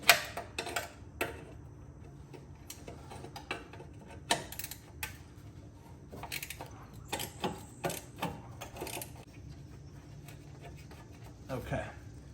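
A ratcheting wrench works a bolt loose on the rear fender of a 2015 Harley-Davidson, producing irregular bursts of sharp, close ticking clicks with quiet gaps between them.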